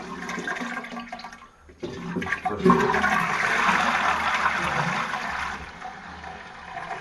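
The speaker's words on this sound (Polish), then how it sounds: "W momencie puszczenia wody" A toilet flushing in a cramped bathroom during plumbing repair: a click and brief pause, then a loud close rush of water that slowly tapers into running flow.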